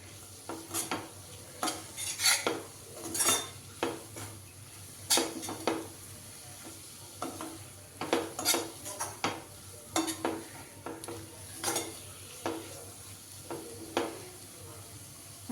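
A brinjal curry with dried coconut is stirred in a pan, giving a run of scraping spoon strokes against the metal over a soft sizzle, close and irregular, with no voices.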